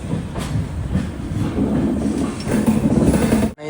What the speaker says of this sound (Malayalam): 10:20 ട്രെയിൻ ഇതാ പാലക്കാട് ജംഗ്ഷനിലേക്ക് എത്തുകയാണ്.